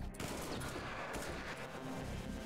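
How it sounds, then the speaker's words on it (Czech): G36 rifle gunfire in the video game RimWorld: a dense, continuous burst of rapid shots crackling throughout, fairly loud and heard alone. "Tomber tam lupnul světlici, přepíná na G36, střílí."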